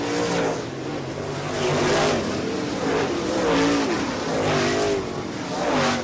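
Modified race cars roar around an oval track, engines loud and continuous, with several cars overlapping and the pitch rising and falling as they pass, lapping slower traffic.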